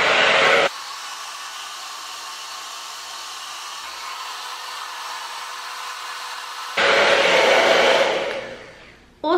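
A hair dryer with a diffuser runs on low speed while curly hair is dried: a steady, airy whoosh with louder blasts at the start and near the end, then trailing off.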